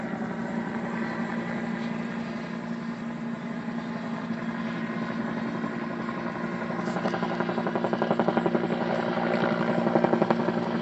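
A firefighting helicopter hovers low over a pond near Azalea, Oregon, dipping its water bucket during a fire. A steady, loud rotor and turbine drone fills the whole stretch, swelling slightly near the end, with no talking.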